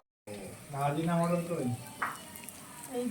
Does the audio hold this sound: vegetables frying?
yes